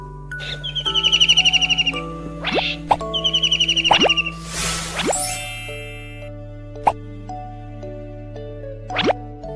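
Kingfisher calls come as bright, high chirping bursts repeated several times, mixed with bouncy plopping tones and a sustained musical backing.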